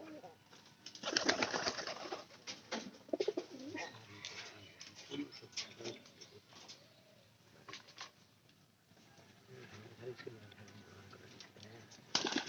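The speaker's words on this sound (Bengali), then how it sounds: "এই যে এই কবুতরের কথা বলছিলাম" Pigeons at a home pigeon loft give soft repeated cooing at close range, with rustling, fluttering and a few bumps in between, and someone talking intermittently over them.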